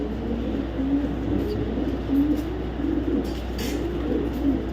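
Baby racing pigeons cooing softly in a loft, repeated low throaty coos in a gentle rhythm over a steady low hum, close by with no talk.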